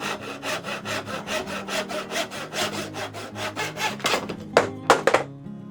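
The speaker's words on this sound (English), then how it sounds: "and we're just going to quickly saw this out." A tenon saw cuts through a wooden board in steady, even back-and-forth strokes, close and clear, finishing with a few quicker, sharper strokes as the cut ends.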